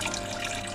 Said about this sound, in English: we pour our freshly made nitric acid into this bottle